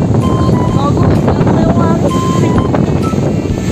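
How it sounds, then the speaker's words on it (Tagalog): Strong wind roars steadily into the microphone during a bike ride to a market, a loud, continuous buffeting rush that fills the whole clip, with faint tonal whines mixed in. "Talaga napakalakas ng hangin guys."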